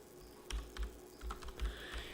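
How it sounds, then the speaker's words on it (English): Keys clack on a computer keyboard, a handful of distinct close taps in an irregular rhythm over a quiet room hum, with no speech. "I'm just typing in."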